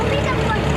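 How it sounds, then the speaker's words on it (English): A 1951 McCormick Standard W4 tractor pulling a wagon in a parade gives a loud, steady engine drone for a brief moment, close by and unbroken, with talking mixed underneath. "Keith McGladry and his tractor pulling Glenn Edwards' wagon. The tractor is 1951. McCormick Standard W4"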